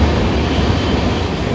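The 12134 Mangaluru Mumbai Superfast Express rumbles loudly and steadily as it crosses a river bridge near Mangaluru, a dense roar of wheels and carriages heard from on board, with no voices.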